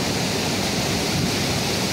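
The Kalisindh river rushes below Ghogad waterfall in a steady, loud, unbroken roar of churning water with no pauses.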